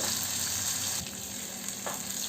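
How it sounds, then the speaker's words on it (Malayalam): Dal, onion, garlic and green chillies sauté in a pan over medium heat, giving a steady close sizzle with a few soft stirring scrapes for an onion chutney. "നല്ലതുപോലെ ഒന്ന് വഴറ്റി കൊടുക്കാം ഈ സമയത്ത് മീഡിയം ഹീറ്റിലാണ് കുക്ക് ചെയ്യുന്നത്"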